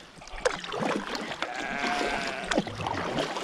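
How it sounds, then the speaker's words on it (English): A sheep stuck in river mud bleats a few times at close range, the calls rising over a rough outdoor background with faint water sounds from a kayak nearby. "there's another sheep stuck in the mud in the river."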